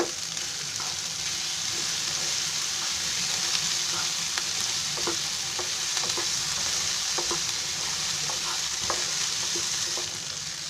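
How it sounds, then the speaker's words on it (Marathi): Vegetables for rava upma fry in a pan with a steady sizzle, while a spoon scrapes and stirs in scattered light clicks throughout. No one speaks. "हे सर्व आपली भाज्या मस्त फ्राय झाले आहेत"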